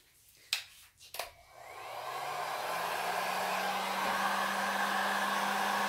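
Heat gun switched on and blowing over freshly poured acrylic paint on a canvas: a few knocks at the start, then a steady rising whoosh of air that holds loud and close.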